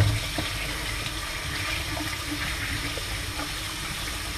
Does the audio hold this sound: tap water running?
yes